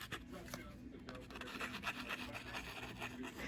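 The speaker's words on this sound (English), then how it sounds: "we're going to take a piece of sandpaper" Steady rasping rub of sandpaper against a wooden rolling pin, continuous and fairly close, with faint background murmur underneath.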